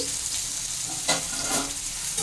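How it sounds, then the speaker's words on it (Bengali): Giant taro sizzles steadily in a hot pan while a utensil scrapes and stirs it in a few distinct strokes, close and alone. "এবার এটাকে আমি একটু ভালো করে নেড়ে চেড়ে নিয়ে একটু হালকা করে ভেজে নিচ্ছি"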